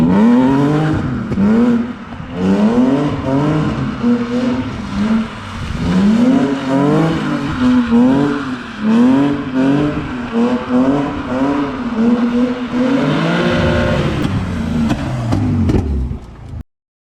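A BMW E46 drifting on its own, the engine revving hard in repeated rising and falling surges with whirring tones, loud and close throughout, with no voices, before cutting off abruptly at the end.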